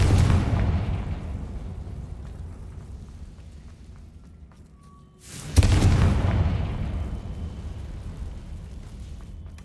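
The Confringo explosive spell from the video game Hogwarts Legacy, two deep booming blasts a few seconds apart, each with a rumbling tail that slowly fades.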